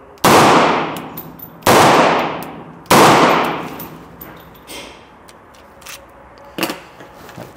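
Three loud, close pistol shots from a 1911A1 or Tokarev at a range fire in quick succession, each with a sharp crack and long decaying echo, followed by faint clinks and a smaller bang.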